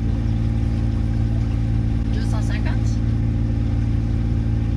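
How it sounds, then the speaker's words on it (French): A boat's engine drones steadily and loudly throughout a sea crossing from Cartagena to Sotogrande, a constant low hum with a short burst of talking over it midway. "Un peu saoulant avec le moteur là tout le temps."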